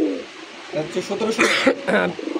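A pair of pigeons for sale coo in low, throaty bursts close by, with people talking over and around the calls.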